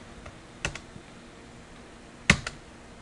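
A computer keyboard is typed on in a quiet room, giving two brief pairs of sharp key clicks with long silent gaps between them.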